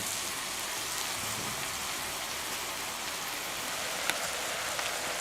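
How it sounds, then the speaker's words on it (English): Brussels sprouts with balsamic sizzle in a pan over a Solo Stove Mesa tabletop fire, a dense, steady hiss with a few faint crackles and pops near the end and no talking. "the sounds of the sizzling"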